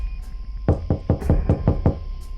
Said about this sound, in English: There was a knock at our door.